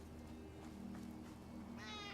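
A house cat meows several times at close range, soft and faint over steady low room hum, with a brighter, more strained cry near the end; no talk accompanies it.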